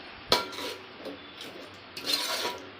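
A spoon scrapes and knocks against a pan while chicken is stirred with green masala, giving a few sharp clinks and soft rubbing strokes, close and quiet with no talk.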